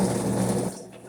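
A small Magic Bullet personal blender whirs loudly with a gritty mechanical buzz for most of the moment, then cuts off and trails away.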